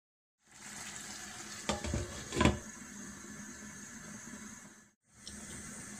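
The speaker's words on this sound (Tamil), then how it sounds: "இப்போ நம்ம தேவையான அளவு தண்ணி ஊத்திக்கலாம்" Water is poured steadily into hot frying masala for vegetable kurma, a continuous hissing, splashing stream with a sizzling burst, briefly pausing before resuming.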